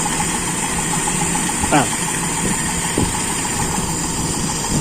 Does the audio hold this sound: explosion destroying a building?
no